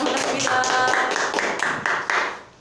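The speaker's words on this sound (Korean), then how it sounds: "박수로 한번 환영하겠습니다." A small group claps to welcome a person, a short burst of uneven applause lasting a couple of seconds, fading toward the end, with a brief voice near the start.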